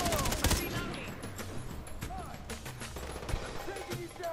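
Far Cry 3 gunfire crackles in repeated bursts and single shots, fairly distant and mixed with game effects, while players chat over it.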